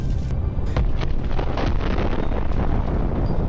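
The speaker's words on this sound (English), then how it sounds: "A powerful explosion." A powerful explosion from drone-dropped munitions in combat gives a sudden blast that settles into a sustained, loud roaring rumble with wind buffeting the microphone.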